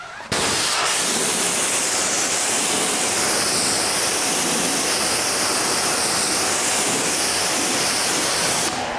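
An 1800 PSI pressure washer sprays water onto a floor, starting abruptly and holding a loud, steady, close hiss of spray before cutting off at the end.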